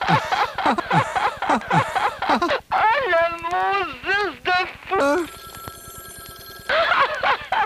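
Telephone bell ringing as a comic sound effect, with rapid electric trills and a long steady ring interleaved with voices mimicking and warping the sound, making chattering, siren-like whoops.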